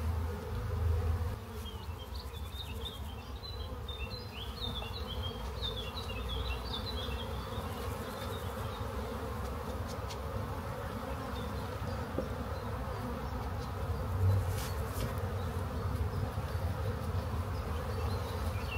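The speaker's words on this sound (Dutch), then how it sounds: "Je moet de bijen eraf tikken." Honeybees hum and buzz steadily around an opened Layens hive, a dense close drone with individual bees whining past, while faint thumps and rustles of hive work sit underneath.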